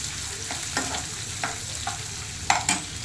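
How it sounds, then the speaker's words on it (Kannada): Ordinary onions fry in a pan for bisi bele bath and are stirred, a soft steady sizzle with a few sharp scrapes and taps of the spoon, close by with no voices. "ಈಗ ಈರುಳ್ಳಿ ಹಾಕ್ಕೊಳ್ತಾ ಇದ್ದೀನಿ"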